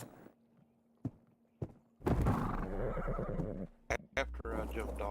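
A video game horse gives a loud whinny with hoof clip-clops around it, preceded by a few sharp thuds over a low steady hum, followed by brief bursts of other game sounds.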